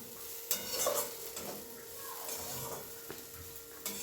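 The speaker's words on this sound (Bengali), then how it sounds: "কাঁচা লঙ্কা, পেঁয়াজের একটা পেস্ট, ভালো করে এটাকে আমি কষে নেব।" Green chili and onion paste sautéing in hot oil for a chicken stomach dish, with a steady close sizzle broken by repeated scraping stirs of a spoon against the pan.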